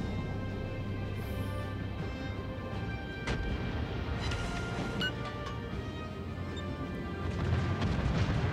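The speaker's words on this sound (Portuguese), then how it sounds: "É, dois tiros perfurantes." Armor-piercing shell salvos from a battleship in the naval video game World of Warships, heard as a few sharp booming impacts and crashes over a low steady game background, moderately distant.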